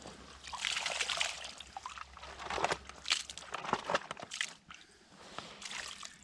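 Laundry is swished by hand in a tub of water in an off-grid setup, producing close, continuous sloshing, trickling and splashing in uneven surges, with no talking.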